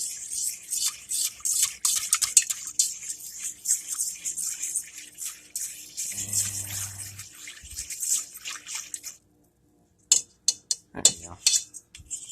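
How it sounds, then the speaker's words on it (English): Mac and cheese sauce stirred in a pan, a spoon scraping and rubbing against the metal in quick repeated strokes. It goes quiet for a moment, then a few sharper scrapes follow. "keep stirring"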